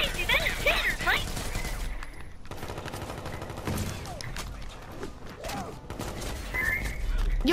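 Gunfire in a video-game shootout with gang members, sustained crackling shots over a busy, dense mix, with chirpy tonal effects and voices mixed in.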